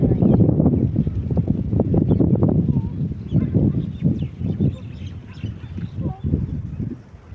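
Geese and other birds honk outdoors in a series of dense, overlapping calls, loud at first and then more scattered.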